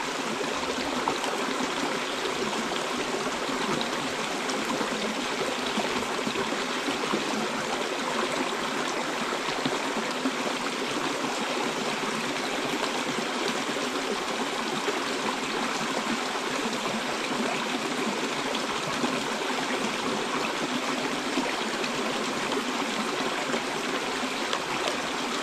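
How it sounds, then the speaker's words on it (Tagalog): A creek flows steadily and close by, a continuous broadband rush of water trickling over rocks that holds an even level throughout, with no voices over it. "Eric, nako diri atol sa may sapa tol"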